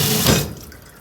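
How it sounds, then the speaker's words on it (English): Water gushes loudly from a newly opened valve on a wall-mounted pressure washer, a harsh hissing spray that drops after about half a second to a softer, steadier trickle. "I'm gonna open this valve, bleed any air."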